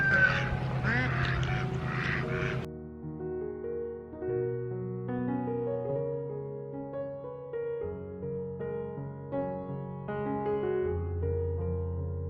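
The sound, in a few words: ducks quacking near nest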